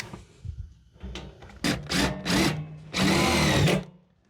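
A power drill driving screws into wood, several short whirring bursts building to a longer sustained run near the end, close and loud, with no talking.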